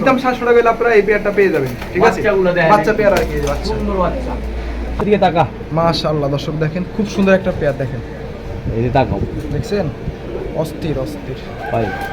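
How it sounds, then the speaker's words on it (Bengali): Pigeons coo in a loft among the birds of a pigeon seller's collection, low rolling calls that run under steady conversation between men close by. "মাশাআল্লাহ কি কবুতর ভাই এটা"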